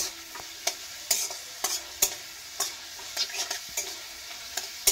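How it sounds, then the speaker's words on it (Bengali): Garlic fries in a pan for a Bengali bharta, a steady close sizzle broken by sharp scraping clicks of a spatula stirring every half second or so. "প্রথমে রসুনটా ভালো করে ভেজে নেব।"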